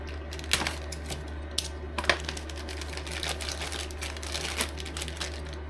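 Crinkly rustling and a few sharp clicks from packaging being opened around new ball-joint car drop links, quiet and close, with scattered taps over a steady low hum.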